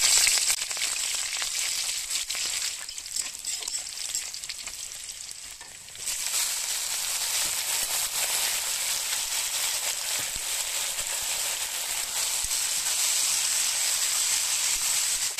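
Nigella seeds, dried red chili and onion frying in hot oil give a steady, dense sizzling hiss that dips briefly and then swells louder and stays constant, with no talking.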